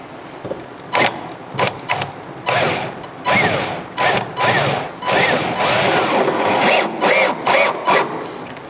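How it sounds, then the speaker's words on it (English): A drill drives a couple of screws into wood up close, in loud, choppy bursts of whirring and grinding that start and stop repeatedly, with no voices. "So I'm going to stick a couple screws in."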